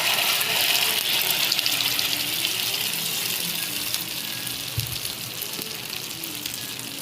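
Beaten egg poured into hot oil for Tamil-style egg kalakki gives a steady sizzling hiss with a bubbling, water-like rush that holds near and fairly loud throughout, with no talking.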